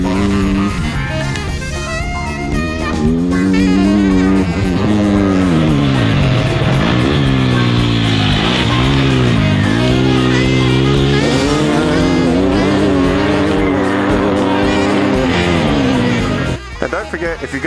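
Dirt bikes racing on a flat track, engines revving loudly and continuously with rising and falling pitch as riders accelerate and back off, sustained close roar throughout with a brief drop near the end.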